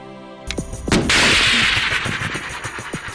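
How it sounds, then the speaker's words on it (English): Live guided missile fired from a BMP infantry fighting vehicle: a sharp crack and a loud launch blast, then a sustained roaring rush of the motor trailing off with crackling, loud and close, no talk. "he gets to fire a live missile from the BMP"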